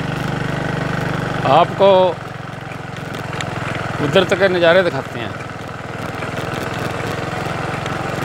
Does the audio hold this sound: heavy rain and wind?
no